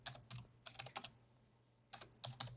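Keys on a computer keyboard clatter in short bursts of quick clicks while text is typed during a coding session, two clusters split by a brief pause, close and fairly quiet with no speech.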